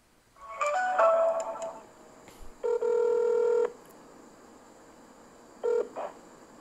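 A mobile phone call goes unanswered. Rapid dialing tones are followed by a long, steady ringback tone and then a shorter one, clear and close, with no voice answering.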